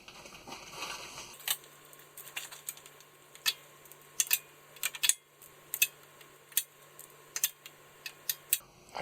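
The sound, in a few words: ratchet clicking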